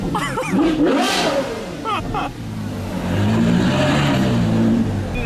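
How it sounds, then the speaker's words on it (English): Loud hypercars and supercars drive through a quaint little town, their engines revving and roaring close by as they pass one after another, with voices in the background. "A bunch of loud hypercars and supercars through this quaint little town."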